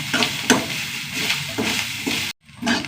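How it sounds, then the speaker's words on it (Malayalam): Grated coconut with curry leaves dry-roasting in a pan, loud continuous crackling sizzle with rhythmic scraping stirs, briefly cut off near the end before resuming. "ഇനി ഒന്ന് വറുത്തെടുക്കാം"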